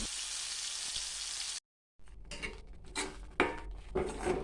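Ground curry leaf paste going into hot oil and being stirred: a hissing sizzle, then a short gap, then clinks of a spoon against the pan over renewed frying.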